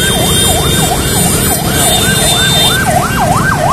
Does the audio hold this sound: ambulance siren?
yes